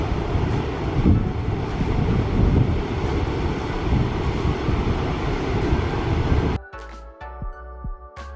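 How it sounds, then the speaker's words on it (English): Strong outdoor wind batters the microphone in a loud, continuous rumbling roar for several seconds, then drops off abruptly to a much quieter background. "it's very windy out here"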